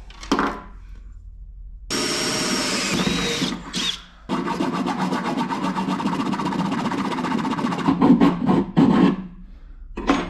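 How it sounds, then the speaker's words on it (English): A power drill whines loudly and steadily, grinding a square hole through a Ram truck's utility bed, with brief pauses and a rising strain near the end. "let's drill a square hole"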